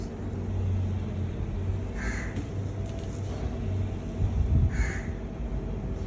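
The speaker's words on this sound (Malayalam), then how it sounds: "കാക്ക" A crow caws outdoors, two distinct harsh calls spaced a few seconds apart, rising clearly above a steady low background hum.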